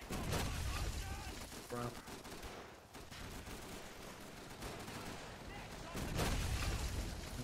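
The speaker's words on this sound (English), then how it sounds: "Panzer IV just shooting me." In the Call of Duty 3 video game, a Panzer IV tank fires on the player. Dense, muffled gunfire and blasts roll through a noisy battle mix, and a voice speaks briefly over it.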